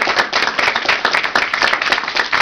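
Close, rhythmic clapping from an audience at an author showcase, a steady run of sharp hand claps filling the whole stretch with no talk over it.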